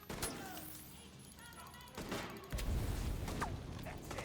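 Video game gunfire, a burst of sharp shots and clattering impacts followed by louder booming fire in the second half, all fairly close and mixed with other game noise.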